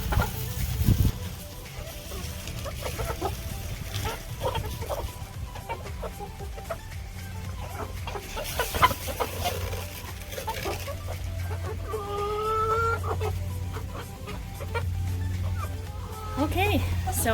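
Backyard chickens cluck and murmur as they peck at cracked corn treats in their coop, a steady close chorus with some scratching and occasional louder calls. A person talks in between.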